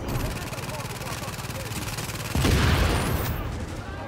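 Rapid machine gun fire rattles in the video game The Division, a fast, evenly spaced burst of shots that grows louder and heavier midway, with voices heard alongside.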